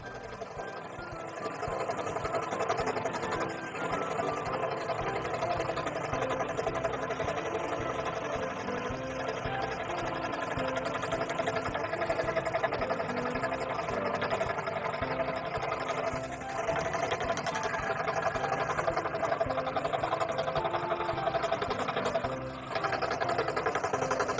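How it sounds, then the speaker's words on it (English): A continuous mechanical buzz of a scroll saw running and cutting, its steady whir holding at an even level for a long stretch with slight dips. "I'm just going to take my time and allow this scroll saw to work its magic"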